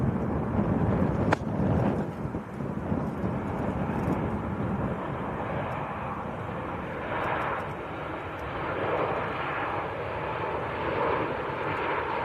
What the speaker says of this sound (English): Ryanair from Lisbon in Portugal.